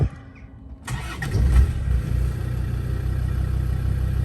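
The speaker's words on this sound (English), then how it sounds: "quickly show you this Defender 110 starting up and idling" A Land Rover Defender 110 TD5 County station wagon diesel starts after a brief quiet, turning over with a loud surge, then settles into a steady, throbbing idle recorded up close.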